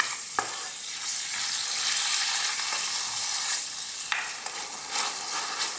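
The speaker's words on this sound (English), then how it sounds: "our pork's cooking beautifully" Pork frying over lively heat for Thai fried rice, a constant bright sizzle with a few stirring clicks and scrapes, close up and without voices.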